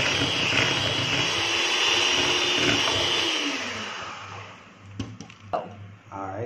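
An electric mixer blending cookie dough, a loud steady whirring drone that winds down partway through, followed by a few clinks and knocks.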